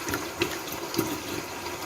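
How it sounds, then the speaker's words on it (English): Water poured into a pot of Iranian fesenjoon stew, a continuous splashing, bubbling pour with a couple of brief louder splashes, close and alone. "The water should be added in 2 or 3 times"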